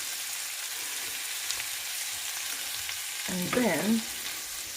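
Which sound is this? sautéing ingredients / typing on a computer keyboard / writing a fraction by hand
sautéing ingredients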